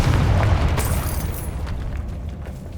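A Confringo spell in the Hogwarts Legacy video game detonates as a loud, close, rumbling blast that decays over a few seconds into a fading crackling tail.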